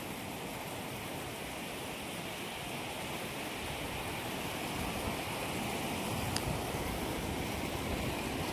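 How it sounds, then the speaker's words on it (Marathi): Water flows steadily in a stream beside a road, a constant broadband rush that stays even throughout and is fairly faint and distant, with no voices. "इथून पाणी येतोय"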